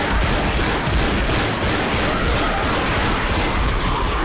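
Dense, rapid gunfire from the video game Left 4 Dead rattles loudly and continuously in overlapping bursts throughout, with no clear voices over it.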